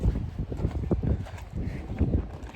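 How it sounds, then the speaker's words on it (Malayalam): Gusty wind buffets the microphone outdoors at a tulip garden in Scotland, a steady low rumble with irregular surges throughout. "നല്ല കാറ്റുണ്ട്."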